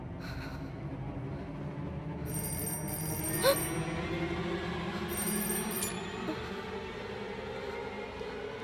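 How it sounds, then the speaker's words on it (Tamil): An old-style telephone bell rings faintly in an old house, short bursts of high ringing over a steady low background hum, with no voices. "ஃபோன் ரிங் ஆச்சு"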